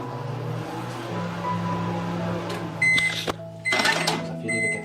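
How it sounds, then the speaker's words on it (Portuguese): A microwave oven hums steadily while melting chocolate, a low constant drone, followed by several sharp beeps and door or handling clatter near the end. "vou levar ao micro-ondas por 5 segundos"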